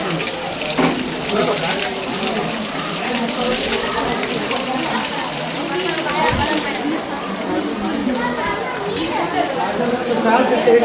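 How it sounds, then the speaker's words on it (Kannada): Water pours without pause from a temple's ever-flowing spring or outlet, a steady splashing rush close by, with people talking throughout. "ಇದು ಸದಾ ಯಾವಾಗ ನೀರು ಹರಿತಾನೆ ಇರುತ್ತೆ."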